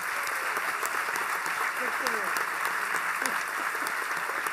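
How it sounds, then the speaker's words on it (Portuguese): A stage audience breaks into a full round of applause, dense steady clapping that holds throughout while voices murmur over it. "eu pediria uma salva de palmas aqui."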